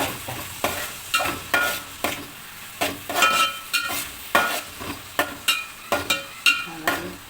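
Onions sauté in a pan with a steady sizzle, while a spatula scrapes and stirs in a regular rhythm of sharp strokes, close and fairly loud.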